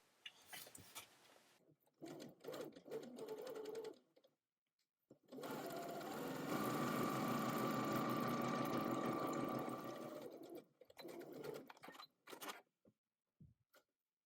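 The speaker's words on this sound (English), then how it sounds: "you're going to sew along the curved edge at 1/2 inch or 13 millimeters seam allowance" A sewing machine sews a curved apron shoulder ruffle seam at half-inch allowance, with short stitching bursts and then one long steady run of close, quiet whirring and needle chatter.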